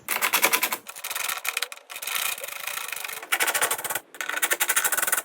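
A 3/8 ratchet with a long extension and Torx T25 socket cracking loose the airbox screws on a Mercedes GLB 250: bursts of rapid, dry clicking ratchet strokes, close and fairly loud, separated by short pauses, with no talk.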